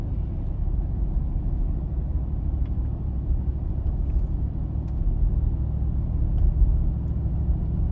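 Steady low road rumble from a car's interior as it drives along park roads on a run course, a continuous near drone with slight swells and no talk.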